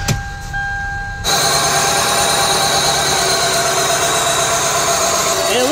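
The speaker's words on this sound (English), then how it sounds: "And unfortunately, it's still misfiring." A 1999 Toyota Camry 2.2L four-cylinder engine idles with a misfire on one cylinder, giving a steady, loud, close running drone with an uneven pulse that starts abruptly after a brief quieter moment.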